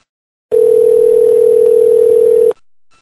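After a phone call is hung up, a steady, loud telephone dial tone plays alone for about two seconds, then cuts off, leaving a faint low hum.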